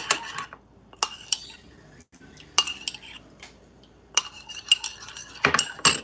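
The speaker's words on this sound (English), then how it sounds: "When you put honey in things, you stir it in." A spoon stirs honey into a spice mix in a cup, giving scattered clinks and scrapes against the vessel in irregular bursts, close and clear, with quiet gaps between them and no speech.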